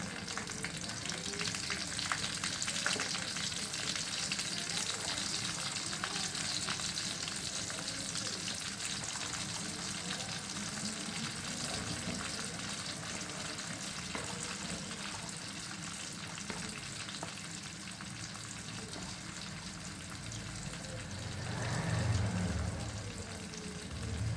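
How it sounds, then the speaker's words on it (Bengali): Onions frying in a pan with a continuous, fairly loud sizzle over many seconds, broken by scraping stirs and a louder clatter near the end. "প্রথমে আমি পেঁয়াজটা ভালো করে উপর থেকে দিয়ে নেব"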